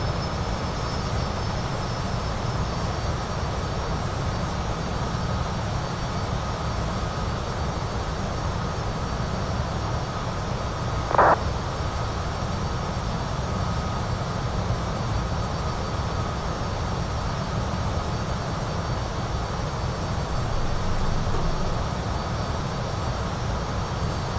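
Steady, droning jet noise from a CJ4 business jet climbing in Microsoft Flight Simulator, a constant cabin-level roar that holds evenly throughout with one brief tonal blip partway through.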